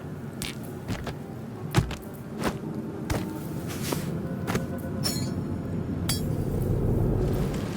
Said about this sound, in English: Inventory, different sounds for each item.